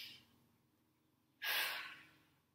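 One deep, breathy inhalation, close and fairly soft, after a faint earlier breath, during a breathing exercise for clarinet players.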